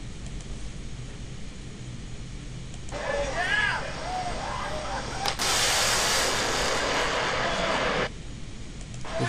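An airplane flies past with a steady broadband roar that swells midway into a louder rushing wash, then drops back to a lower drone.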